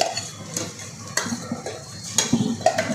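Ginger-garlic paste and green chilli are stirred into onions in a pan for chicken biryani, with close, uneven spoon scrapes and clinks against the pan over a light sizzle.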